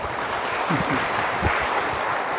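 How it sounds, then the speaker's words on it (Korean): An audience at a lecture on ecology held in a Catholic church applauds the visiting professor, a dense, steady patter of clapping lasting a couple of seconds at moderate volume. "박수를 한번 주세요."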